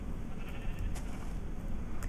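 Sheep in the Minecraft video game give short, faint bleats that are scattered over a steady wash of background noise.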